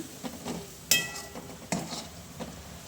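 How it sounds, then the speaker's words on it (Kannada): Egg pepper roast masala frying in a pan with ghee, spoon scraping and stirring in repeated strokes over a soft sizzle, with a couple of sharper clinks of utensil against the pan. "ಒಂದು ಸ್ವಲ್ಪ ಹೊತ್ತು ಫ್ರೈ ಮಾಡ್ಕೊಳ್ಳೋಣ."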